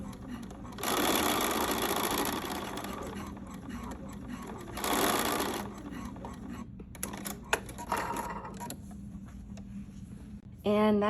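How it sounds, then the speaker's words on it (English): A sewing machine runs basting stitches through fabric on the top side of a cami tank. Its steady mechanical whir comes in two close bursts of about two seconds and one second, with quieter room sound between. "I'm gonna go back with my sewing machine on the top side and first baste those into place"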